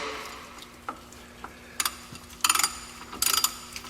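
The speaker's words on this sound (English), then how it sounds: "A few turns with the ratchet." Ratchet wrench turning the fill plug back into the manual transmission case of a 2001 GMC Sonoma, heard as a few short bursts of quick clicking close by over faint background hum, with no talking.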